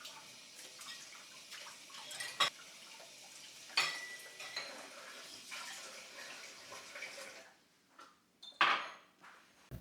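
Dishes are washed at a home kitchen sink. Running water splashes steadily while plates and utensils clink and knock sharply now and then, close by with no voices.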